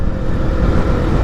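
A Zontes 155U motorcycle engine runs steadily and close by during a test ride, a loud continuous low rumble with no talk over it.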